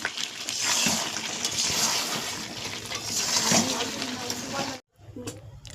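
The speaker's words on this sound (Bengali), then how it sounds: "এবার জল দিয়ে দেব" Water pours steadily into a pot of browned, cooked meat with a broad rushing splash. The flow cuts off abruptly near the end, and faint clatter follows.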